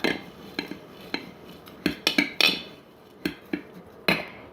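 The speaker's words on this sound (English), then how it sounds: "Stir that up well." Spoon stirring muesli with raisins and brown sugar in a bowl, giving a dozen or so sharp, irregular clinks and scrapes against the bowl, close and fairly quiet, with no talking.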